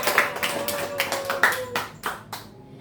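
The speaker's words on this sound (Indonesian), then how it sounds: "kita beri aplaus dulu untuk kita semua" A group of people clapping together in a counseling session room, a brief burst of applause with sharp hand claps that tapers off after a couple of seconds.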